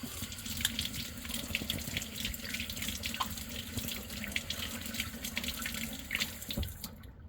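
A steam ring gasket from a Breville Barista Express espresso machine rinsed under a running kitchen tap, a steady splashing stream of water with small irregular spatters, close and continuous until it stops at the end.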